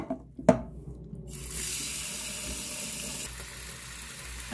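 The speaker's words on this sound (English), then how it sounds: "I washed this rice 6 times." Rice being rinsed in a kitchen sink: a short splash and clatter of grains, then a steady rush of running tap water that keeps flowing to the end, fairly loud and close.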